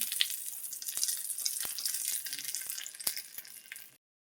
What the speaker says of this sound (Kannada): ಒಗ್ಗರಣೆ ಹಾಕ್ಕೊಳ್ತೀನಿ.